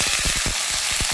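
Carrots, beans and fresh peas fry in hot oil with bay leaf, giving a loud, steady, close sizzle with small crackling pops throughout and no voice over it.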